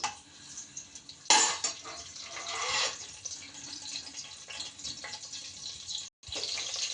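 Green chillies dropped into hot oil for a chicken curry, a sudden loud sizzle and crackle that keeps bubbling and spitting steadily, close up, with a brief break near the end before the frying noise resumes.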